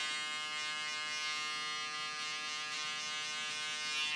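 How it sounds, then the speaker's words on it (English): An electric beard trimmer buzzes steadily and close up with a continuous motor hum while trimming a man's beard during coloring, with no speech. "then you use your trimmer"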